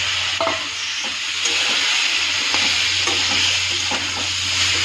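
Ripe chopped tomato drops into a hot pan with turmeric-spiced vegetables and is stirred, giving a steady broadband sizzle under scattered soft scraping strokes, close and fairly loud throughout with no talk.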